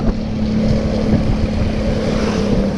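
Steady wind rushing over a Viar 800 W BLDC electric motorbike ridden at around 40 km/h, a continuous close buffeting roar with a low hum underneath and no talk.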